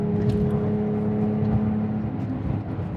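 Porsche 997.2 GT3 RS on JRZ RSPro 3 shocks cruising slowly over road bumps and small compressions: a steady engine hum with a constant tonal whine and soft thuds from the suspension, heard from inside the car.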